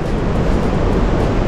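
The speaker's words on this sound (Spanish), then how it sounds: "Lo que se escucha al fondo es el río Cusiana." Loud, steady rushing water of the Cusiana mountain river in Boyacá, Colombia roars without a break, a broad full wash of sound like a fast river close by.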